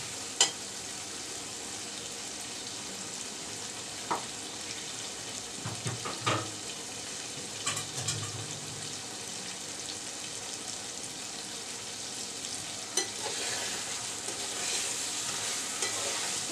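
Red lentils and prawns fry in hot oil in a pan, giving a steady sizzle. Scraping stirs and occasional clacks of a utensil against the pan break through it, close and continuous, with no voices.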